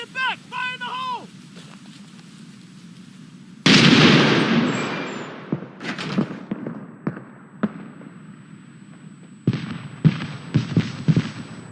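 A grenade blast in the military shooter Six Days in Fallujah, one sudden loud boom with a long rumbling decay, followed by scattered gunfire pops and debris, with a shouted voice just before.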